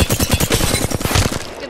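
Rapid smart bullet gunfire in the battle royale game Apex Legends, a dense run of sharp, loud, evenly spaced shots filling the whole stretch with no talk over it.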